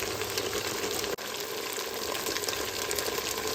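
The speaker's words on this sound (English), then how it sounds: "We'll add our beef broth." Beef broth, 48 ounces of Swanson brand, pours steadily into a stew pot already holding wine, tomato paste, basil and rosemary, giving a continuous close splashing gush with one brief break.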